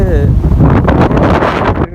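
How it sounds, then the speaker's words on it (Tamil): Strong cyclone wind roars and buffets the microphone on the coast at Point Pedro, a loud steady rushing blast with someone speaking over it. "பயங்கரமான காற்று பார்த்துக்கணும் சொன்னால் இங்கே வந்து வீசிக்கொண்டிருக்கு"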